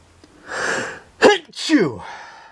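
A single loud sneeze bursts out close up, preceded by a sharp inhaled gasp and followed by a trailing exhale.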